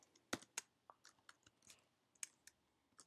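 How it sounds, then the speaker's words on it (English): Someone types on a computer keyboard while writing in a Microsoft Word document on a Mac, producing faint, uneven key clicks with a few sharper taps, alone and close. "So just start typing anything you want."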